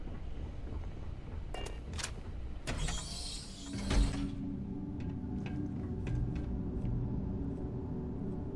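A lift mechanism in the game Starfield starts up with clunks and a burst of mechanical rattling, then settles into a steady low hum with faint ticks and creaks, close and moderately loud.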